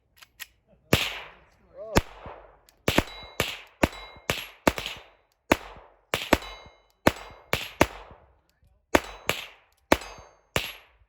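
.22 LR rounds from a Glock 44 handgun striking a steel target, a series of about a dozen sharp cracks, each followed by a brief ringing ping, fired at an irregular steady pace.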